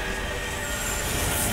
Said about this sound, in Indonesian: Dia summon kereta.